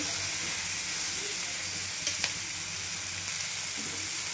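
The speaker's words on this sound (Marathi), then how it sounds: "बघा असं भाजून घ्यायची मिरची तेलामध्ये." Capsicum (shimla mirchi) peppers frying in oil, a steady close sizzle and crackle with a couple of brief sharper pops, no one speaking.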